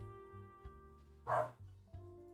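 In the video game Genshin Impact, a single short dog bark pops out over a soft, steady game music bed, fairly quiet and brief, with faint tones continuing around it.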